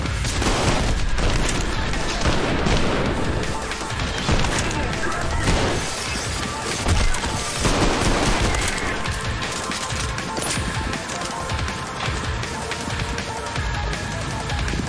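Repeated pistol shots in the first-person shooter Trepang2, loud and dense over a continuous game soundscape of crashes and impacts, with no talking.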